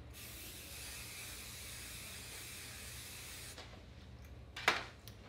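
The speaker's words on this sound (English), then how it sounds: "I'm just gonna prep her hair with a little bit of a shine spray." IGK Good Behavior shine spray misted onto hair, a steady close hissing aerosol spray lasting about three and a half seconds, followed by a brief sharp clatter and quiet handling noise.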